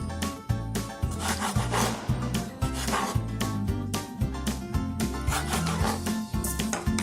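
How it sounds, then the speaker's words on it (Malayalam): A knife saws back and forth through the brown crust of bread slices, making steady, rhythmic rasping strokes that are close and fairly loud throughout, with no voices. "ഇതിലത്തെ ഈ ബ്രൗൺ കളറ് മുറിച്ച് കളയണം, കട്ട് ചെയ്ത് കളയണം."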